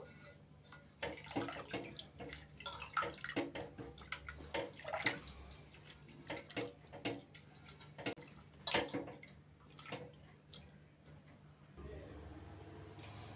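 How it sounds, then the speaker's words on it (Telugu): Water is poured into boiled tamarind and tomato and stirred by hand in a pot while making Andhra-style rasam, giving close, uneven splashing and sloshing with scattered wet clicks and drips. "ఇప్పుడు కొద్దిగా నీళ్ళు పోసుకొని చల్లారిపోయిందండి కొద్దిగా నీళ్ళు పోసుకొని కలుపుకుంటున్నాను"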